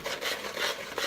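A dry oatmeal bath bomb mixture is stirred and mixed in a bowl, giving a soft, continuous gritty rubbing and scraping sound, close and alone.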